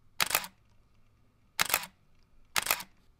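A used camera's shutter fires three times, about a second apart. Each is a crisp, close mechanical click-clack in an otherwise quiet room.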